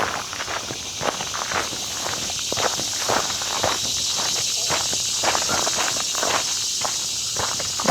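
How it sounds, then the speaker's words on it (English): Cicadas buzz steadily outdoors along a wooded nature trail near Corinth, Mississippi, a continuous high drone close by, with footsteps crunching rhythmically underneath throughout. "The cicadas are out in force today."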